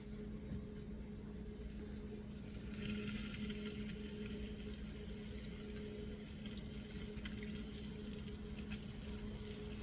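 Chicken stock and white wine being poured over a stuffed chicken breast baking dish, a steady liquid splash and trickle running continuously at moderate level over a low kitchen hum, with no talking.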